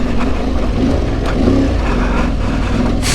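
An Aprilia Tuareg 660 motorcycle engine pulls at low revs up a trail climb, a steady close-up chug with some wind noise and a sharp burst at the very end.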